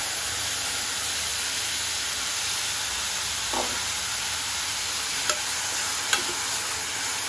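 Thick tomato puree is stirred in a hot pan, with a steady sizzling hiss and a few soft scraping clicks.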